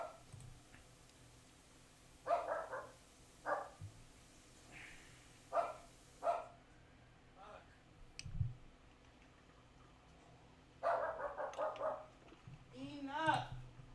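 Indoors, a dog barks repeatedly in short bursts spread across several seconds, with a quick cluster of barks near the end, moderately distant over a low background hum.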